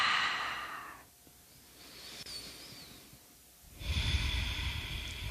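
A slow, audible breath out during a yoga session gives a soft airy rush, followed by a quiet lull and then another fuller breath sound near the end.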